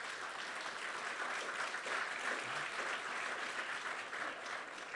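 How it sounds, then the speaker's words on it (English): Audience applause fills the room at a State of Black America event, steady sustained clapping from a large crowd with no voices on top, holding an even level throughout. "Let's give them a round of applause."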